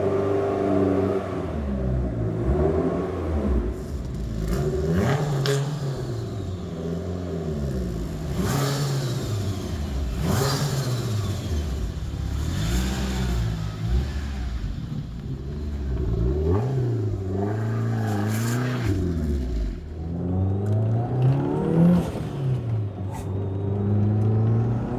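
A Mitsubishi Eclipse GSX turbo engine fitted with a Green turbo and Hellcat parts revs up and down repeatedly, producing loud, close rising and falling swells with turbo hiss over a steady rumble.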